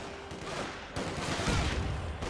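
Machine gun fire in the World War II strategy game Company of Heroes 2, a dense rattling burst that runs steadily and builds louder partway through, heard alone with no talking.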